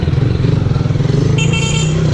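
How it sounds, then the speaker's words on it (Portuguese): A modified motorcycle with a tuned engine rides along city streets, its engine note throbbing in a steady, pulsing rhythm close by, with a brief higher-pitched tone joining midway. "tá andando bem a motinha, velho"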